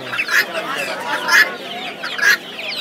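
Chickens cluck in repeated bursts at a bustling pet market on Galiff Street, Kolkata, with three louder squawking clucks rising over a busy background and faint voices.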